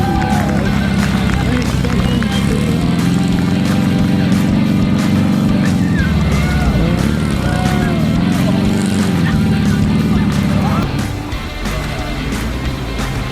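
A Volkswagen Syncro van crawls along in low granny gear at a Syncrofest off-road gathering, its engine droning steadily and loud with rising and falling revs, and people talking over it.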